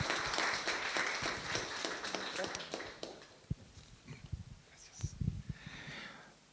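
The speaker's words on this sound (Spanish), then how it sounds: "Un aplauso para Juan Pablo" Scattered audience applause at a reflection talk event greets the arriving speaker, fairly dense at first and then thinning into a few isolated claps and shuffling noises, faint and somewhat distant.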